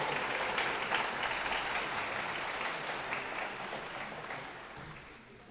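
A school audience at a senior awards celebration applauds the graduating presidential scholars, dense sustained clapping from a large crowd that stays full and even, then gradually thins and fades toward the end.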